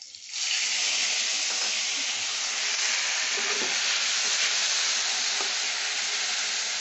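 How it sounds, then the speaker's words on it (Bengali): Green chillies and nigella seeds hit hot oil in a Bengali kitchen, setting off a loud, steady, close sizzle that holds continuously with faint crackles underneath. "আর এখন আমি কাঁচা লঙ্কা আর কালো জিরে ফোড়ন দেব, দিয়ে দিলাম"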